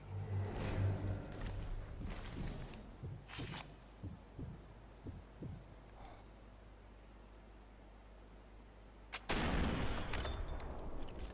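Sniper rifle shots from the video game Sniper Elite 4 ring out: a muffled boom opens, scattered thuds follow, and then a loud blast comes near the end over a steady hiss.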